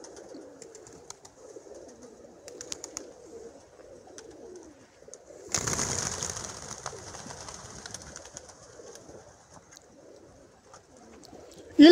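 Pigeons coo softly in repeated low, throaty phrases at a fairly close distance, joined midway by a burst of fluttering wings and rustling, then a sudden sharp knock at the very end.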